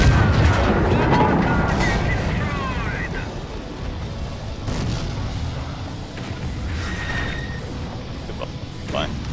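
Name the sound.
tank gunfire in video game World of Tanks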